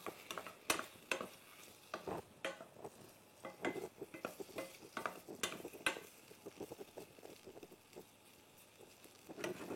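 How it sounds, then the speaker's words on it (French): Potatoes frying in a hot pan and being stirred, with repeated scraping and clinking strokes against the pan over a soft sizzle, close and fairly quiet, no talking. "on chauffe bien au départ. Voilà, pour bien colorer nos pommes de terre."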